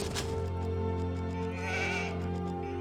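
Sheep bleating in the strategy game Age of Empires 2, a single clear bleat over steady in-game music and ambient tones.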